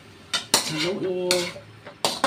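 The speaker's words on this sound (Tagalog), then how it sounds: "Haluin." Utensil scrapes and clanks against a pan as chicken liver and gizzard adobo is stirred, a few sharp metallic knocks with softer scraping between, close and alone.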